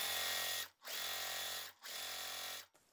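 A sewing machine stitching quilt block fabric pieces right sides together, three steady whirring runs of rapid stitching separated by brief stops, close and clear with no talking.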